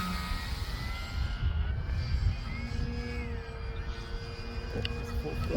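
Radio-controlled model airplane engine at full throttle outdoors, a continuous buzzing drone that shifts slightly in pitch, with faint talk in the background.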